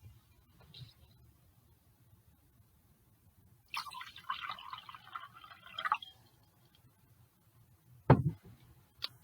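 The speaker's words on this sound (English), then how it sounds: "we're going to put some water in it" Water pours briefly into a crystal stemmed glass, a bright gurgling trickle of about two seconds in the middle, followed by a sharp knock near the end, with quiet room tone and no speech.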